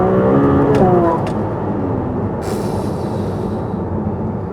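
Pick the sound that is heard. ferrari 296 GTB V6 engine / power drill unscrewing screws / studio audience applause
ferrari 296 GTB V6 engine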